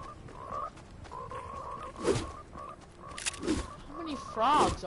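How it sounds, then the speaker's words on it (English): Frogs croaking, probably in a video game: repeated croaks and ribbits rise in short bursts, fairly close, with a player talking at times over them. "How many frogs are there?"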